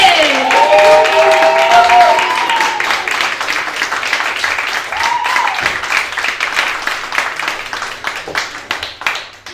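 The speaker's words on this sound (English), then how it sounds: "a warm round of applause as we welcome to the stage Libbi!" An audience at an award showcase in Manchester applauds as the performer Libbi comes on stage. A brief tonal flourish opens over the clapping, then the applause thins and gradually fades.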